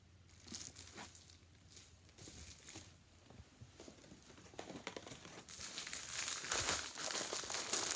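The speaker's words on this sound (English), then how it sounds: "Pack of Christmas paper." A pack of Christmas wrapping paper is handled and crinkled in a store, steady close rustling and crackling that grows louder and denser toward the end, with no talk.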